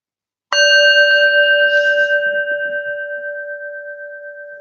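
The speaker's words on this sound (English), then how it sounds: "Listen to the bell fade." A meditation bell is struck once after a moment of silence, then its clear ringing tone sustains and slowly fades, alone and close.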